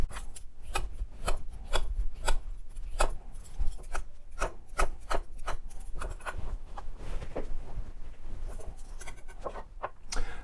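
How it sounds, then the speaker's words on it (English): A knife dices cucumber on a cutting board for a salad, giving a steady run of crisp, close chopping taps at an even rhythm with no talking. "Next is the cucumber, which also needs to get diced."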